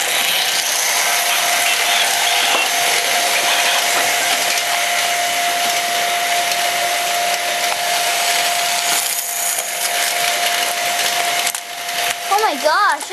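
A battery-powered device with grinding gears gives off a loud, continuous mechanical whine with a steady pitch. It runs unbroken for several seconds before faltering into rough, uneven bursts near the end.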